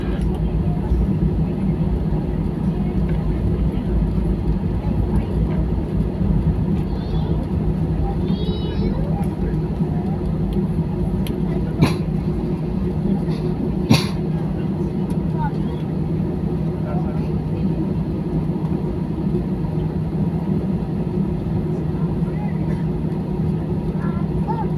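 Steady, loud cabin roar of an airliner during takeoff from Bicol International Airport, a constant engine and airflow drone filling the whole stretch with little change and a couple of faint brief clicks.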